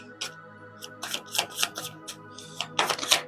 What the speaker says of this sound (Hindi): कार्ड्स उछल उछल के खुद ही बाहर आ रहे हैं